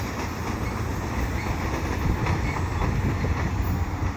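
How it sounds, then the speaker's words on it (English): A CP local train rumbles past nearby at Beaconsfield, heading east, with a steady, heavy roll and faint rhythmic clatter of wheels on rails, continuous throughout. "quick local train headed east"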